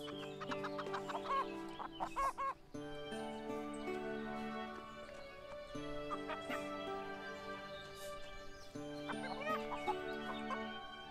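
A chicken in the farming game Everdream Valley clucks repeatedly in short bursts and a drawn-out cackle, close and clear over soft game music, with no speech.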